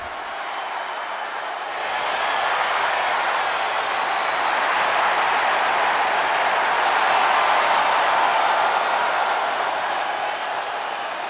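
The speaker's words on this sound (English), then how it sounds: "Listen to the noise from this crowd." A wrestling video game crowd roars and applauds in a dense, sustained wash of cheering that swells after a quieter start and stays loud to the end, with no talk over it.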